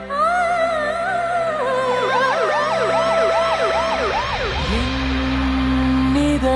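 An ambulance siren wails in a loud, close, rapid rising-and-falling sweep, then drops into a lower steady tone with engine rumble underneath.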